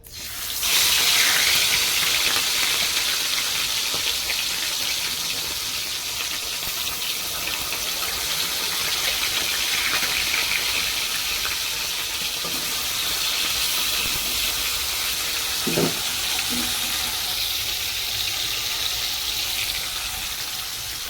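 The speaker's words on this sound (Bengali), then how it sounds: "একদিকে হচ্ছে মাছ ভাজা হচ্ছে" Continuous loud sizzling and hissing of fish frying in hot oil, with faint occasional clinks.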